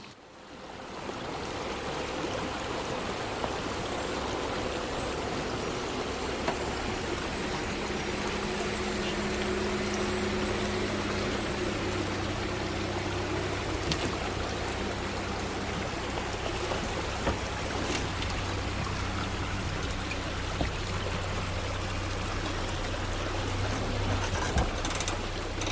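Creek water runs steadily across a Wyoming badlands trail as an overland vehicle crosses, its engine a low hum beneath continuous near rushing flow, with no talk.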